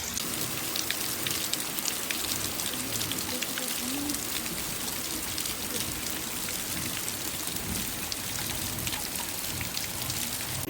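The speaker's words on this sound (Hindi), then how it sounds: "तेज बारिश" Heavy rain pours steadily on an open hillside farm field, a dense continuous hiss of drops close around the listener for the whole stretch, with no voices.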